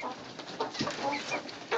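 Chickens cluck and murmur softly in a barn during morning chores, a few short calls close by over a faint steady background, with no talk.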